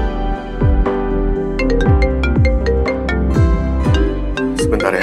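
A mobile phone ringtone for an incoming call from a younger sibling plays loud and alone, a repeating melodic pattern of bright plucked notes over a steady bass pulse, cycling several times.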